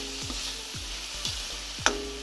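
Tomatoes frying with chopped banana flower in a Jaffna-style pan, a steady sizzle broken by several scraping stirs and a sharp utensil knock near the end, close and moderately loud with no talk.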